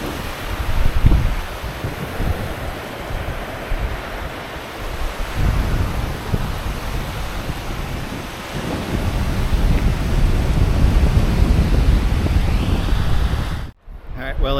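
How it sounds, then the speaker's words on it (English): Strong wind gusts across an open island beach at Caladesi Island, a steady roaring rush mixed with surf, loud and close on the microphone, ending in a brief dropout near the end. "I have a windbreak because the wind's blowing pretty good out here"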